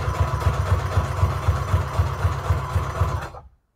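A sewing machine runs a default zigzag stitch over fabric and lace, its needle thumping in a quick, steady rhythm with a motor hum, close and continuous before stopping abruptly near the end.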